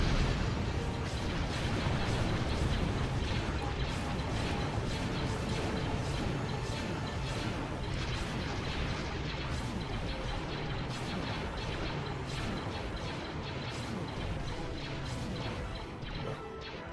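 Heavy broadside cruiser cannons in Sins of a Solar Empire fire in a dense, continuous barrage of booming impacts and crashes, steady and loud throughout with a rapid pulsing rhythm.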